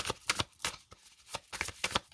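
Tarot cards shuffled and laid down during a reading, a series of short dry papery swishes and slaps in irregular bursts, close and fairly quiet, with no talking.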